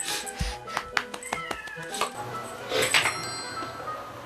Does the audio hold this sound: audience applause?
no